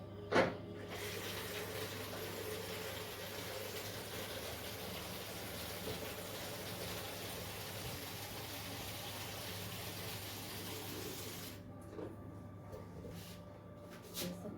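Drinking water runs from a household tap into a container in a steady, even rushing stream that stops near the end, with faint clinks around it.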